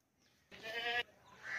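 A dairy goat for sale gives a single clear, close bleat lasting about half a second, with quiet farmyard background before and after.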